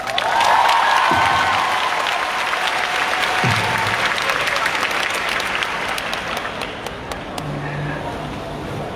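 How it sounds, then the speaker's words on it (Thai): A crowd at a Thai street protest rally breaks into loud, dense applause that carries on steadily for several seconds, with a few scattered thumps beneath the clapping. "ขอเสียงปรบมือกับคุณแซมอีกรอบหนึ่งครับ"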